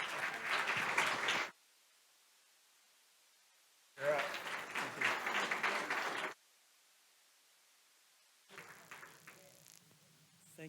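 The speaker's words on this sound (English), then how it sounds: "Let's give a round of applause for all of our panelists' questions." A panel-discussion audience applauds the panelists in two solid bursts of clapping separated by quiet, followed by a fainter, thinner patter of claps.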